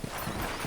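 A brief burst of hoofbeats, a quick clip-clop of a galloping horse in the video game Red Dead Redemption, with no voices.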